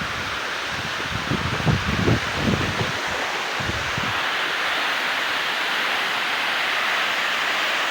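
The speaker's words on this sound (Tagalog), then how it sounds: "Ganda ng falls na Dampalit mga ka-idol" Dampalit Falls in Los Baños, Laguna, pours as a steady, broadband rush of falling water, with faint rustling near the start fading into an unbroken roar.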